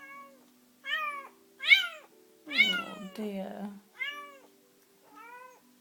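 A kitten born to a stray mother meows repeatedly in short, quiet, high cries spaced about a second apart, with a person speaking briefly in between.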